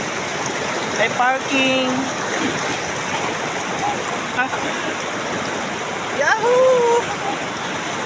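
River water flows steadily at Papuna Island Resort near Dumaguete City, a constant rushing wash running through the whole stretch, with excited voices and a shout breaking in over it.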